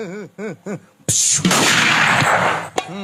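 A gunshot sound effect in a southern Thai shadow puppet comedy show: after a few short voiced syllables, one loud, close blast erupts and rumbles on for over a second before a brief click.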